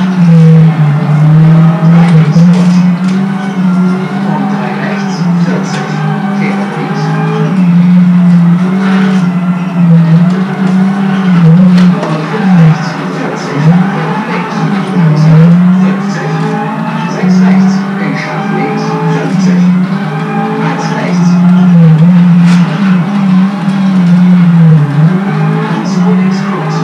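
A Ford Focus WRC rally car on the Rallye Monte Carlo stage, its engine droning steadily and loudly throughout, rising and falling with gear changes as if heard from inside the car, with voices faintly underneath.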